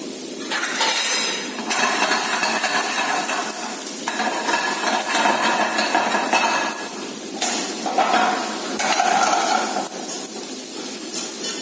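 Onion sizzles and sautés in three pots over a slow flame, a steady close frying hiss broken by spoon scrapes and metallic clinks against the pans.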